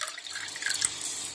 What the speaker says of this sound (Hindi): दूसरे ग्लास में थोड़ा सा पानी डाल रही हूँ